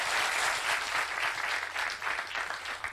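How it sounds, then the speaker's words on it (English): An audience gives a steady round of applause, a dense, continuous wash of many hands clapping at moderate volume, with no speech over it. "Let's give him a big round of applause"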